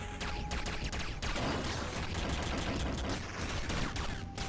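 Rapid, dense bursts of laser weapon fire from the video game Downwell form a loud, continuous crackling barrage throughout, with no voices.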